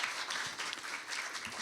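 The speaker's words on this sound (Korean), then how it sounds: "큰 박수 부탁드립니다" Audience applause at a business briefing on the 2026 Daedeok Innopolis development program, a steady, dense wash of clapping from a hall crowd, even in level throughout without a break.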